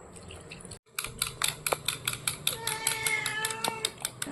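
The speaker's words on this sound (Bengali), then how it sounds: "এবার আন্দাজ করে জল দিয়ে একটা ব্যাটার তৈরি করে নিতে হবে। অল্প অল্প করে দেব আর মিশাবো।" Water is added little by little and stirred into a batter of Maggi noodles, chili powder and salt for a crispy snack. The stirring makes a steady run of quick, close clicking strokes in a bowl, with no speech.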